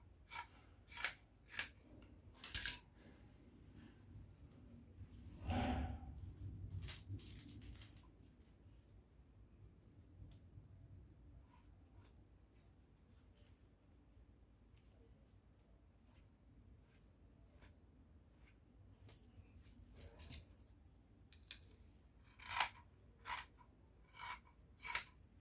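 Scissors snipping through tee shirt fabric, a series of sharp, close cutting clicks at the start and end with a quieter rustling stretch in between, no talking.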